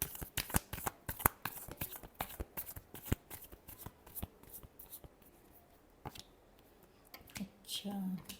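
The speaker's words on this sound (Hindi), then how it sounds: "Last shuffle." A deck of tarot cards being shuffled close up, a quick run of crisp riffling slaps followed by softer shuffles and a pause, with a voice speaking at the end.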